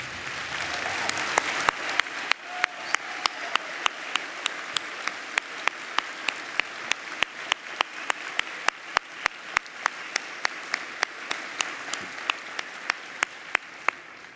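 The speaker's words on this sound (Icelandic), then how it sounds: "standa hér upp og klappa hraustlega fyrir Bjarna okkar Benediktssyni, fráfarandi formanni" A standing audience at an Icelandic Independence Party gathering gives a sustained ovation to outgoing party chair Bjarni Benediktsson, an even roar of clapping that gradually settles into rhythmic, synchronized claps at a steady beat.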